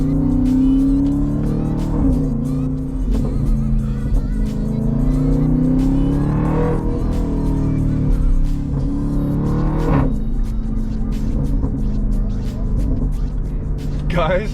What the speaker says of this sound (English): that supercharged V8 never gets old